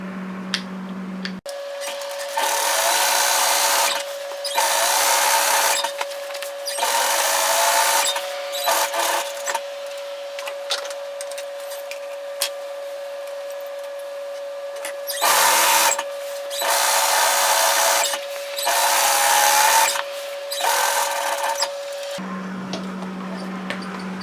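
A sewing machine runs a long-stitch gathering thread across dress fabric in bursts of rapid mechanical whirring, stopping and starting several times, with a steady motor hum between the bursts and no speech.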